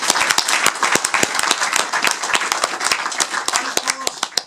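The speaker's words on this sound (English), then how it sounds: "Fred deserves a large round of applause for getting all of those candidates together" Audience applause at a UKIP public meeting in Oswaldtwistle on Nigel Farage's Common Sense Tour: dense, sustained clapping from a crowd filling the whole stretch at a steady level, with no voices over it.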